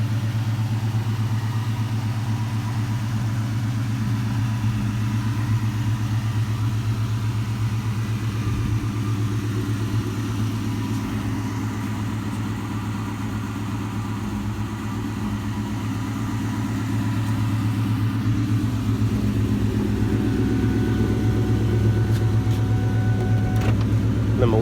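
A Ford Mustang GT with a repaired exhaust leak idles steadily and loudly nearby, a deep, even rumble sustained without a break and with no talk.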